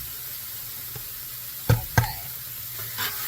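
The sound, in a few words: stirring pasta while beef stroganoff sizzles in cast iron skillet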